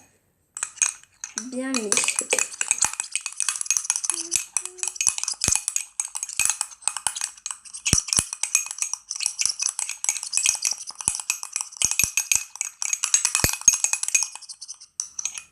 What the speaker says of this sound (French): Donc on va bien mélanger jusqu'à ce que tout se soit